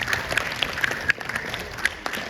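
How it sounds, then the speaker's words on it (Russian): Audience applause at a graduation video festival, a soft, fairly distant patter of clapping with a few sharper individual claps. "Поэтому поаплодируйте себе на удачу."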